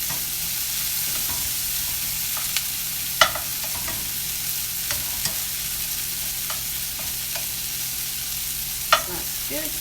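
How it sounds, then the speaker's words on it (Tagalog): Omelette frying in a pan, a steady close sizzle with occasional sharp crackles and pops throughout, no voices. "Dali lang magluto ng omelette."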